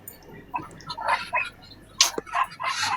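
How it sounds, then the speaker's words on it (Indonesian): A Muscovy duck kept as a pet at a house gives short breathy hisses and soft clucking sounds, close by, in a brief series with no talking. "ini entok gua, Nyon."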